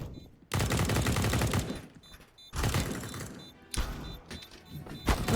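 Rifle fire in Counter-Strike: Global Offensive during a professional ESL Pro League match on the Vertigo map, with dense bursts of rapid automatic shots broken by brief pauses.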